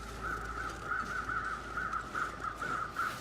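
Crows caw in the wilderness of the survival video game The Long Dark, a rapid series of harsh, rasping calls repeating rhythmically at moderate distance over a soft ambient background.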